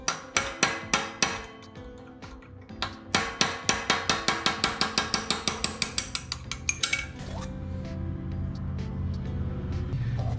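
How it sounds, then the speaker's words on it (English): A small engine flywheel for a 212 Predator-type engine is lapped by hand with valve grinding compound, heard as a run of sharp, evenly spaced metallic taps that then gives way to a softer continuous grinding rub, close and alone. "let me lap this flywheel in real quick"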